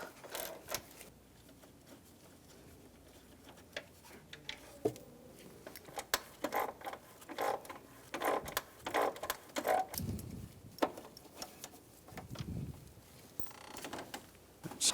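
A T25 socket backs out screws on top of the radiator of a 2009-2013 BMW 328i xDrive 3.0L inline-six, producing sparse clicks, ratchet ticks and small metallic taps in a quiet garage.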